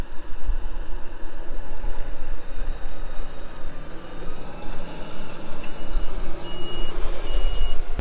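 A farm tractor reverses outdoors, its engine rumbling loudly up close while thin electronic reversing beeps sound intermittently over the noise, clearest near the end.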